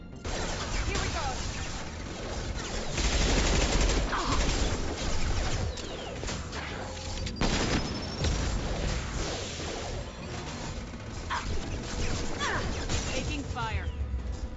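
Heavy gunfire and crashing impacts from combat in Mass Effect 2, continuous and loud throughout with whooshes and bursts layered together, while voices speak over the fighting.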